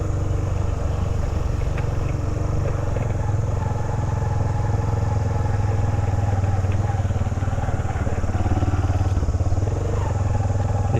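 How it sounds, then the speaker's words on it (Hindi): A motorcycle rides steadily along a mountain road through the Galiyat hills toward Khanspur, its engine a constant close drone with wind and road noise the whole way through. "यहाँ पे बाइक में उधर लेके जाता हूँ"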